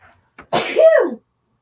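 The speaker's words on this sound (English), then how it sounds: "I'm going to sneeze, pardon me" A single loud sneeze, preceded by a short sharp inhale, bursting out close up and then cutting off into silence.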